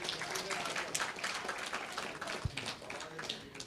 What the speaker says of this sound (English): One round of applause for Sunil.